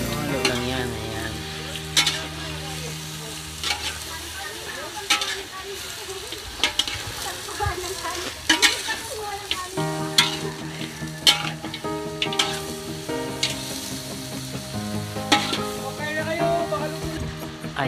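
Potatoes and carrots stirred in a frying pan, steady sizzling and oil crackle with repeated scraping strokes of a utensil against the pan, close and moderately loud, with background music.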